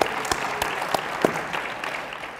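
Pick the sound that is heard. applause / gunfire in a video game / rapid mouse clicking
applause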